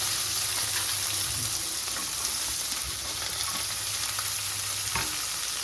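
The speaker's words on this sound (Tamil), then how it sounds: "வெங்காயம் வதங்கட்டும்." Onions sizzle steadily in hot oil with garlic and curry leaves for a banana-flower dumpling kuzhambu, a close, dense frying hiss with occasional stirring scrapes, constant throughout.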